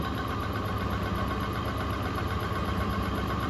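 Car engine with an Accel 59130 HEI distributor running just off idle, a steady close mechanical drone with slight roughness and vibration, heard alone without voices.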